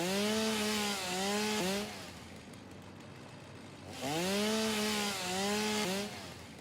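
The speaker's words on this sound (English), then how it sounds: "Again, another good use of our chainsaw." A chainsaw in the video game Satisfactory revs in two loud bursts with rising and falling engine pitch, separated by a quieter idle stretch of about two seconds.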